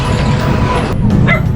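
A dog barks and yips in short bursts, apparently a corgi, over a constant loud low rumble of an engine or vehicle, with faint talk nearby.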